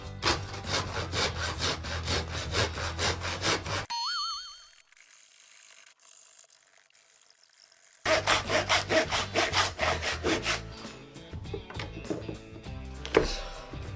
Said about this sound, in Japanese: 背骨の横からノコギリでギコギコとやっていきましょう